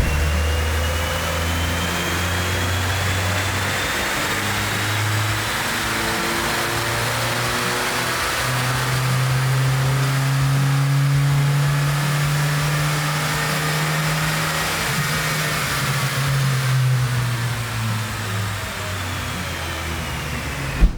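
Ford Fox Body Mustang with about 148,000 miles revving hard on a dyno, the engine note climbing steadily through the gears over a long pull, loud and close, then easing off.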